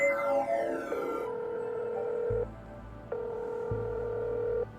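In the sci-fi adventure game Technobabylon, a phone call goes through with a short burst of dialing tones, then a steady electronic ring tone that repeats in long, even pulses with low hums between them, clear and close.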